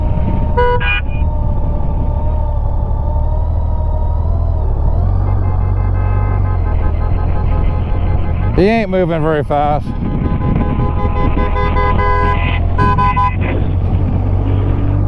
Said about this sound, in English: At least she had enough sense to blow the horn and get the cow out of the way